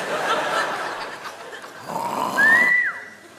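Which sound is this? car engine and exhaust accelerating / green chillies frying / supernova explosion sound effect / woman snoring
woman snoring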